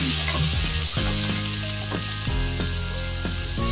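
Onion sizzles and fries in a hot pan with garlic for chopsuey, a loud steady crackle and hiss with occasional clinks of stirring, close up and with no talking.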